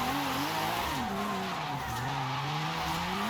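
A Nissan Skyline wagon's engine in Forza Horizon 5 holds a steady drone with shifting pitch as tires slide and hiss continuously while drifting, sustained and fairly loud with no voices.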